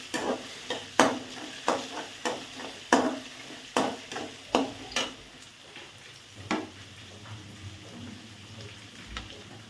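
Potatoes being stir-fried in a pan over high flame, with a spatula scraping and tossing in quick strokes over a low sizzle, the strokes thinning out toward the end.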